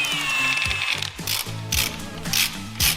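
A hand ratchet undoes 17mm and 14mm gearbox bolts on a Toyota Sera with a 5E engine, giving repeated close, quick clicking bursts with short pauses between strokes.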